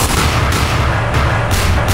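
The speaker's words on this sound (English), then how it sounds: "someone's shooting me?" Gunfire in the video game Garry's Mod, a continuous loud barrage of game shots with bursts of brighter cracks roughly every half second over a dense low rumble, no voices.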